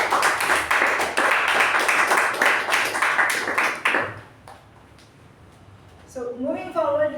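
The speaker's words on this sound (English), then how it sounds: "So a big round of applause to Toastmaster, to our President Toastmaster Latha" An audience at a Toastmasters meeting claps for about four seconds, a dense round of applause that fades out before a voice begins speaking.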